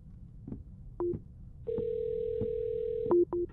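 A game phone in a horror title rings and buzzes, short tone pulses followed by a long sustained steady tone, then two more quick pulses, clear and isolated.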